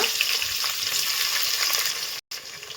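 Mustard seeds, cumin and small chopped onion hit hot oil as tempering for a village-style sambar, giving a loud, steady close-up sizzle that cuts out briefly near the end.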